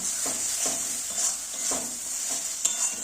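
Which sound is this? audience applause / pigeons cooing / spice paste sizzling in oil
spice paste sizzling in oil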